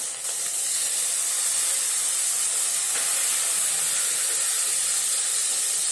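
Chopped tomatoes dropped into hot oil for a Bengali dhokar dalna set off a loud, continuous hiss of sizzling that keeps going steadily with no voices over it.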